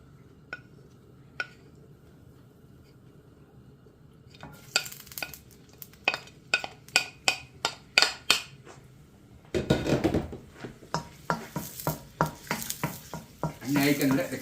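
Garlic goes into a pan of oil for adobo, starting with a few quiet clicks, then a spatula scraping and clattering against the pan in quick strokes over a soft sizzle, getting busier and louder toward the end.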